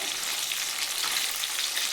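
Bata fish pieces frying in oil at medium heat, a steady, dense sizzle with fine crackling throughout, close and alone with no talking.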